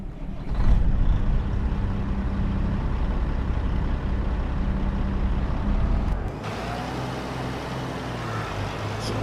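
A Kenworth truck in Farming Simulator 22 drives with a steady, loud low engine drone and rumble that drops to a lighter idle-like hum toward the end.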